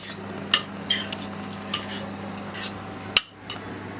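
Sauce ingredients for Thai-style salmon being mixed in a bowl, with a series of light spoon clinks and taps spaced irregularly over a quiet background hum.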